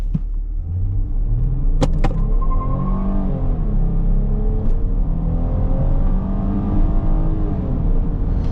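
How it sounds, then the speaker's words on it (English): A 2024 Chrysler Grand Caravan minivan engine roars and rumbles as it accelerates hard from 0 to 60, pitch climbing steadily, with brief sharp tire squeals near the start. "We did get a lot of tire screeching just there"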